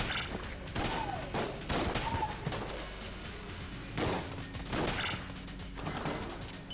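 Many bullets firing in Enter the Gungeon, with repeated loud volleys of gunfire and impact crashes in uneven bursts over a busy game backdrop.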